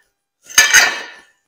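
Cutlery scrapes and clinks against a plate while cutting through an Irish breakfast burger topped with egg: two sharp metallic strikes and then a short grinding scrape, close and fairly loud.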